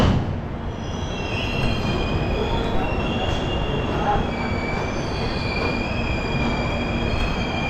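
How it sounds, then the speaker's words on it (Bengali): The Kanchenjunga Express pulls out of Sealdah station with a loud, steady rolling rumble of wheels on track and several high, drawn-out wheel squeals layered on top, heard close from aboard the train. "একদম নির্ধারিত সময়ের থেকে মাত্র 2 মিনিট লেটে আমাদের ট্রেন ছাড়লো শিয়ালদহ স্টেশন থেকে।"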